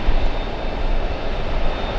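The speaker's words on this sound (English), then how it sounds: "Lufthansa 410 flying in from Munich. That's an 8-hour, 16-minute flight using the entire length of 13 left to slow down." Lufthansa 410 from Munich lands on runway 13 left and rolls out its full length, a steady broadband roar of jet engines and wheels. It stays close and loud for the whole stretch.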